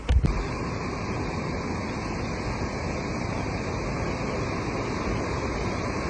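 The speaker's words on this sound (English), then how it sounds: "Let me go and enjoy this waterfall." A steady, dense roar of rushing water from Iguazu Falls on the Argentine side fills the whole stretch, loud and unbroken after a brief bump at the start.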